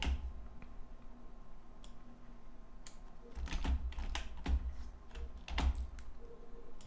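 Keywords are typed on a computer keyboard in uneven clusters of crisp key clicks, close by and quiet, with short pauses between the bursts.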